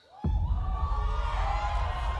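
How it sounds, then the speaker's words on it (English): A crowd at the E3 2019 conference erupts in cheering and whooping, a sudden loud roar that holds steady at full volume. "some people in the crowd really like it."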